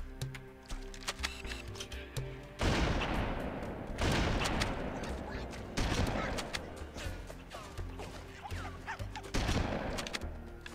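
Sniper rifle fire in the video game Halo Custom Edition: four loud, sharp shots at irregular intervals ring out over steady background game music.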